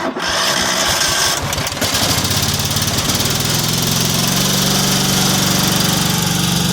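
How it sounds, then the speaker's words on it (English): A small engine cold-starts with a few rough sputters, then catches and settles into a loud, steady running chug close by, picking up a deeper rumble as it keeps going. "Now let's get a cold start going"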